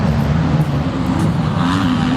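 Motocross bikes in a veterans and women's race at Cessnock roar past on a lap, a loud sustained engine drone with shifting pitch as riders go by close together; no talk.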